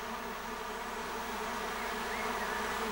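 Fat bees buzz in a dense, steady drone close by, with a continuous hum and no gaps or voices throughout.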